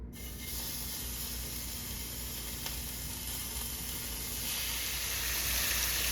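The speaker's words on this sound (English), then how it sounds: "I'm gonna take this entire pack of bacon and put it inside of the pan" A whole pack of bacon sizzling in a pan, a dense continuous hiss that holds steady and grows slightly louder toward the end, with no voices.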